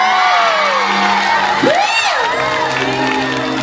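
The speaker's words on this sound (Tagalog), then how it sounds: "Wala bang palakpakan? May kasamang sigawan naman dyan!" Live audience at a comedy and singing show shouts and whoops with cheering and some clapping, in a loud, lively crowd burst lasting a few seconds over background music.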